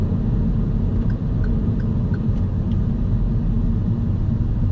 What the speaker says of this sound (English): there's not a lot of road noise, which is a really, really good thing